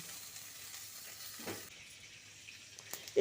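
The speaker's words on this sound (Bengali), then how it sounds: "এখানে আমি একদম কড়া করে ভাজবো না হালকা করে ভেজে নেব" Cauliflower florets frying lightly in oil in a pan, a soft, even sizzle running throughout with a couple of brief louder bursts near the end.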